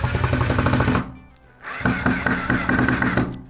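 A cordless drill drives a screw into a wooden board, a loud buzzing motor run that stops briefly and then resumes for a second sustained stretch close by.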